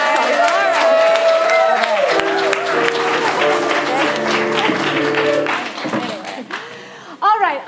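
A theatre audience at a main stage show claps and cheers in a dense, steady wash of applause, with a voice and tonal sounds running over it before the clapping thins out near the end.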